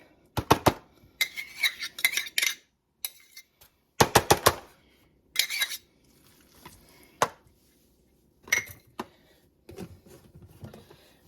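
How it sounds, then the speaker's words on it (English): Mayonnaise stirred in a mixing bowl, heard as bursts of close utensil clinks and scraping against the bowl, separated by short pauses. "I'm going to stir that around a little bit."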